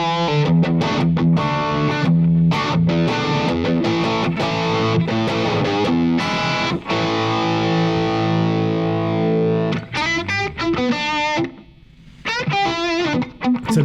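An electric guitar plays through a Strymon Iridium amp simulator into a closed-back 1x12 cabinet, with distorted chords and single notes ringing loud and tight and no talk over them.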